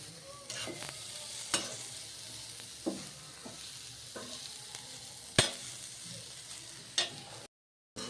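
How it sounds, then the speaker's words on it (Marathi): Curry leaves roasting in masala with onion in a pan, a low, quiet sizzle with a few sharp scrapes and taps of the spoon spread across it, then a brief silence. "कांदा झाला की आपल्याला यावर कढीपत्ता घालून घ्यायचा आहे आणि तो पण भाजून घ्यायचा आहे"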